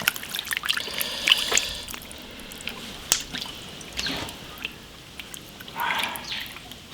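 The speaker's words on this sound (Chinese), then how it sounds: "先把钓子鱼洗一下" Water trickles and drips while small fish from a reservoir are rinsed and washed by hand, with faint splashes and squishy handling sounds coming and going near the source.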